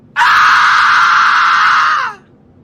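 A single loud, sustained scream-like wail lasts about two seconds and then cuts off abruptly, meant as howling wind that resembles a thousand layered human screams.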